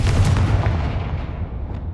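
Confringo fire spell explosion in the video game Hogwarts Legacy, a loud booming blast at the start that rolls off into a decaying rumble, with a faint pop near the end and no talk.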